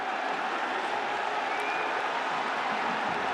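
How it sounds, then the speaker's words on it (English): Football crowd roaring at a Benin v Tanzania World Cup qualifier, a loud, steady wall of stadium noise filling the air without a break. "Goodness me, what a reaction. It's as if they've scored a goal."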